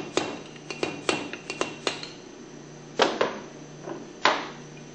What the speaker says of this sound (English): the seal can be tapped out from the back side gently with a screwdriver